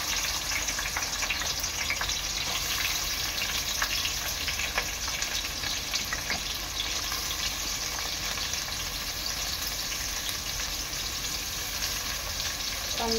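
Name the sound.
onions frying with garam masala and chili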